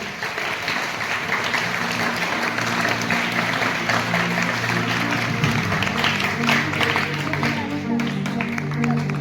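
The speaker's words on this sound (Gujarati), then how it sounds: "તાળીઓથી વધાવીશું" A crowd applauds at an Independence Day cultural program, a dense, sustained wash of clapping over steady tonal background music, loud and continuous from start to finish.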